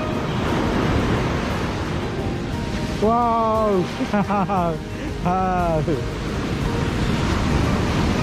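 Surf at a Goa beach on a morning with rain starting, a steady broad wash of waves and wind, with someone speaking briefly over it midway.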